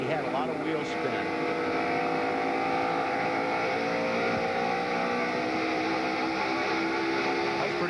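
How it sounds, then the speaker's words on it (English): A NASCAR stock car accelerates off a corner during the 2002 Pop Secret Microwave Popcorn 400, its engine a loud, continuous, harmonic roar that holds steady throughout the clip. "Let's listen as Mark gets off the corner"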